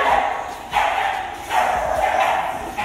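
Several dogs at a kennel bark in repeated loud, close bursts, overlapping yaps and barks coming in waves with brief pauses between them.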